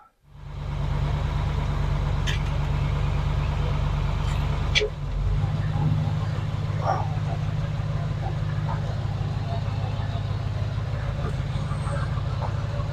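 Fat Fanny, a car fitted with a chassis engineering kit and checked for driveline shake, drives along with a steady loud low engine drone and road rumble, briefly dipping near the five-second mark, then continuing evenly with faint clicks above.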